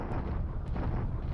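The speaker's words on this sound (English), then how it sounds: "it's been a long time since we had a bombardment at Changsha" Artillery bombardment at Changsha in a strategy war game, a dense low rumbling roar of distant explosions rolling continuously for a moment, no speech.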